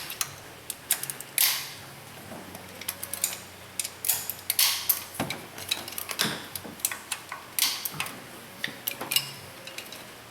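Torque wrench clicking while the lower intake manifold bolts are tightened on a Dodge Caravan / Chrysler Town & Country; close, irregular sharp clicks and ratcheting ticks repeat throughout, with no talking.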